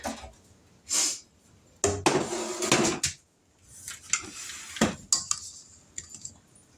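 Baking pans and kitchenware are pulled out while making applesauce oatmeal raisin cookies, producing a series of close metallic clanks, scrapes and rattles in irregular bursts with short pauses between them.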